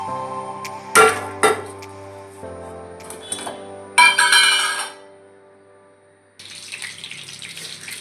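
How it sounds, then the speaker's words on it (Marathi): Cooking oil poured into a pan of roasted peanuts, a thin trickling pour with a few sharp clinks and clatters, settling into a soft hiss at the end while peanut and tomato chutney is being made. "शेंगदाणा भाजून घेतल्यानंतर आता हे आपल्याला तेल टाकून घ्यायचं आहे"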